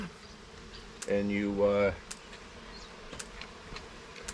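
A honeybee swarm being relocated makes a close, loud buzz that swells for about a second, with a few clicks and handling noises around it and a brief spoken voice.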